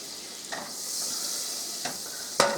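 Two tablespoons of butter melt in a casserole dish lid for a roux, producing a soft, steady sizzling hiss with a few brief clicks of a utensil, close and moderately quiet.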